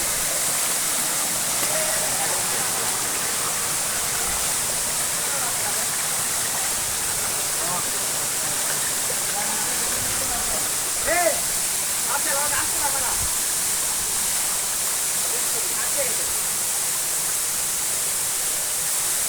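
A hill waterfall in Sajek Valley roars as a steady, loud, broadband rush of falling water that runs unbroken throughout, with voices talking faintly underneath.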